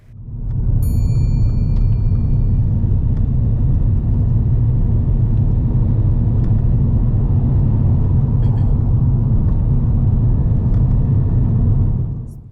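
A car driving along a carriageway in the left-hand lane, a loud, steady low engine and road rumble heard from inside the cabin, continuous throughout with faint faint clicks and no talk.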